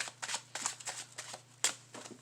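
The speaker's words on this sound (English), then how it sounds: "And we'll give it a shuffle." Playing cards riffled and shuffled in quick bursts, close up, several rapid flutters with short pauses between them and no talking.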